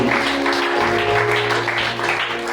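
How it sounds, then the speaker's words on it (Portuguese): Church congregation applauding during a Portuguese-language worship service, a steady wash of clapping filling the room with a low sustained hum or music underneath. "E a igreja diga glórias a Deus e aplauda o Senhor Jesus."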